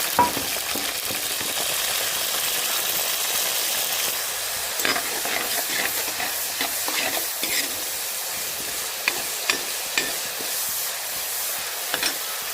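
Ginger, garlic and green chili fry in coconut oil, sizzling steadily in a pan while a utensil stirs and scrapes now and then, with occasional sharp clinks near the end.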